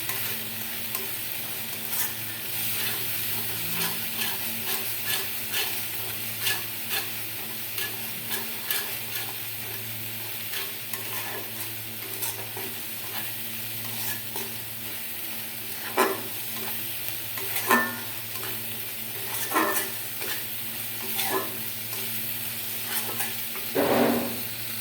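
Potatoes and prawns cook with spice masala in hot oil, a continuous close sizzle broken by repeated scraping and clacking strokes of a spatula against the pan, no voices.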